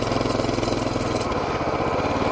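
A Coleman BT200X mini bike engine revving steadily as the tire spins on ice, a loud, close buzzing drone that shifts pitch partway through as the throttle changes.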